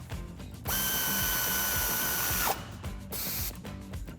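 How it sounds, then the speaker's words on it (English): An 18mm ratchet tightens the upper shock bolt on a Jeep Wrangler JL during a Teraflex 2.5-inch lift kit install. A steady mechanical whirring runs with rapid clicking in two separate bursts, close up. "With your 18mm ratchet,"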